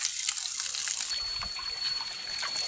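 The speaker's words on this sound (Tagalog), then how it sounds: "malakas na yung tulo" Water trickles steadily from a siphoned hose in a forest, a close, continuous splashing dribble with bright hissing texture and no voices.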